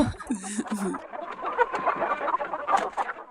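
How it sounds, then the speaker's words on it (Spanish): A hen clucks in short nasal bursts near the start while running, then a busier jumble of rustling and clatter with faint voices carries on at moderate loudness. "Y ahí está la gallina preciosa corriendo."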